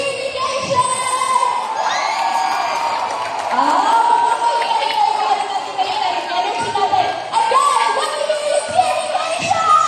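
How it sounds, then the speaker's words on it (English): A school audience of students and guests at a talent festival recital cheers and shrieks excitedly, high children's voices whooping continuously and loudly throughout. "so let me hear you cheer, Pnjkisians!"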